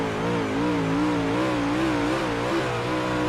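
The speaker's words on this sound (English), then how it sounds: "You can definitely hear the car labouring." A race car engine droning and labouring at steady revs during a race, its pitch wavering up and down, loud and close with no talking.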